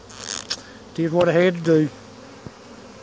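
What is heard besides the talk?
bees buzzing around an opened hive box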